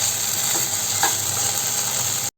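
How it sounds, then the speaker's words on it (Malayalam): Tomato sauce being stirred into a frying mixture in a pan gives a steady, close sizzle with a soft scrape of the spoon, and no one speaks. "ഇതും കൂടി ഇതിലേക്ക് ഇളക്കി യോജിപ്പിച്ച് കൊടുക്കാം"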